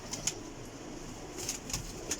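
Bateri pigeons coo softly in a loft: a few faint, low, rolling coos over a steady background hum, with no voices.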